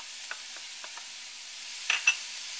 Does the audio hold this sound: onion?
yes